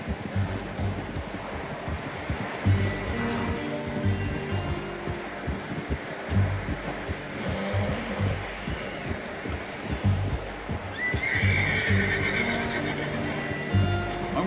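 A horse in the video game Red Dead Redemption II snorts and whinnies over a rolling ambient bed with scattered hoof thuds, moderately close and continuous for about fourteen seconds.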